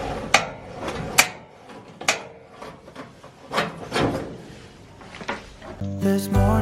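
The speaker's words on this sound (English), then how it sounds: "you'll move this shaker left and right, and what it's doing is it's shifting the plates" A wood stove ash shaker is worked left and right to shift the grate plates, giving repeated close metallic scrapes and rattling knocks in an uneven rhythm, with a brief different noise at the very end.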